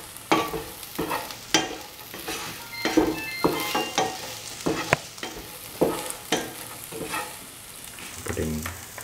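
A dry prawn and green mango stew is stirred thoroughly in a pan, a spoon scraping in steady repeated strokes over a soft, continuous sizzle, close and clear with no talking.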